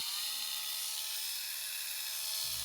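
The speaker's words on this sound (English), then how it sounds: "let's assemble this and try to do some sanding on our coasters" A small rotary tool fitted with a sanding wheel spins at high speed on resin coasters, a thin, steady whine with hissy grit noise, close and unbroken.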